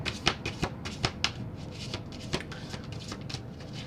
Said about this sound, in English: So I was sitting here shuffling, trying to get a sense of Taurus and how you feel.